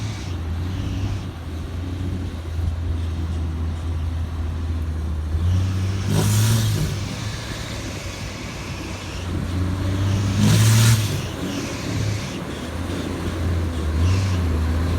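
A fully tuned car engine, referred to as a 3Y, idles with a steady low drone and revs up twice in strong swells, close and loud.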